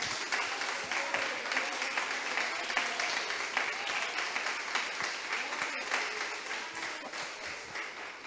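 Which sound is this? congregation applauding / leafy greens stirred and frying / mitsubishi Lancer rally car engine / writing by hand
congregation applauding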